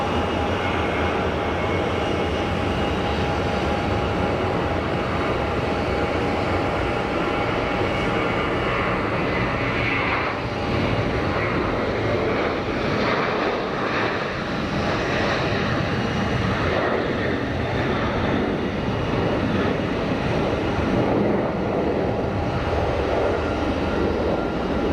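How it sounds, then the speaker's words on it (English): An Algerian Boeing jet airliner roaring on its takeoff run at Geneva Airport, a loud continuous broadband engine rumble with a faint steady whine that lasts throughout. "Algerian Boeing is on the roll."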